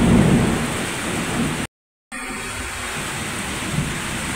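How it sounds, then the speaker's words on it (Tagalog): Thunder rumbles through a heavy rainstorm, broadband roar of pouring rain and rolling thunder, loud and continuous apart from a brief cut, with no voices. "Grabe yung kulog kidlat kanina."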